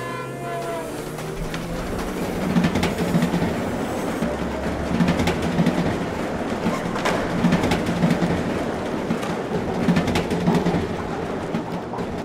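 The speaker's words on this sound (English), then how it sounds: "waiting for the 6:43 train to Oxford." A train passes a platform on a cold, dark early-winter evening, its broad rumble and rattling staying loud and steady throughout with no voices over it.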